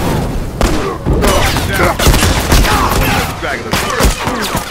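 A grenade goes off during a multiplayer firefight in The Last of Us Remastered, a heavy boom among rapid bursts of close gunfire and repeated cracking shots, loud and chaotic throughout.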